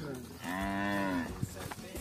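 An ox on a dairy cattle farm in northeastern Brazil gives a single drawn-out, fairly close moo lasting under a second, followed by faint background noise.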